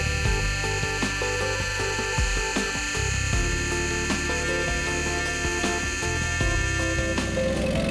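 A scroll saw cuts an inside cut through a diamond-shaped section of a clock part in a home machine shop, a loud, steady buzzing drone running continuously with a fine rapid chatter throughout.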